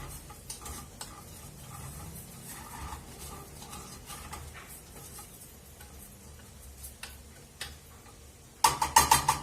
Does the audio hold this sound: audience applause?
no